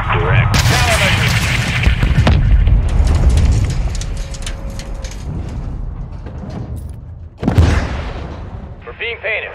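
Incoming missile strikes in the Modern Warfare 2 video game campaign, heavy booming blasts and crackling debris opening the sequence, a sharp second explosion burst near the end, loud throughout with battle noise in between.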